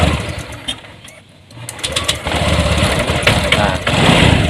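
A Honda Vario 150 scooter with a stalling problem, serviced at the throttle body in a workshop, is cranked and fires up, its small engine running steadily and fairly loud after a brief dip, with a voice talking over it.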